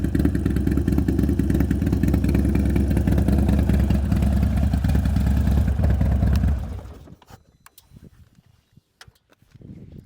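A motorcycle engine fitted with a big bore kit idles loudly with an uneven lope for about six seconds, then shuts off, leaving near silence and a few faint clicks.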